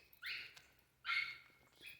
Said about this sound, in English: That's a weird bark too, kind of squeak.